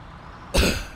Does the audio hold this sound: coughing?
yes